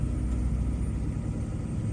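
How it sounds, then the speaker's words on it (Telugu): A state-run RTC bus approaches along a rain-damaged road near Chatrai centre, its low engine rumble steady and fairly loud, with no voices over it. "ఆర్టీసీ బస్సు వస్తుంది"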